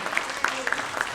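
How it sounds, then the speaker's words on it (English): An audience at a direct-to-consumer business conclave panel applauds, a moderate, fairly distant spread of clapping with scattered sharper claps and no speech over it. "That's quite an applause."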